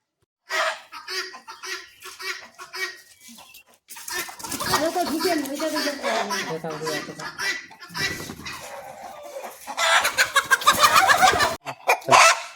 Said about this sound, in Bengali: একটি ফার্মে এসেছি অনেক এখানে অনেক রকম মুরগি আছে